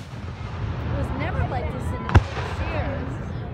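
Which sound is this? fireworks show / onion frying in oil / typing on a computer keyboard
fireworks show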